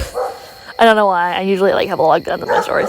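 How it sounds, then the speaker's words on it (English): A dog barks and yips close by, overlapping a person who keeps talking. "I'm so sorry for the dog barking."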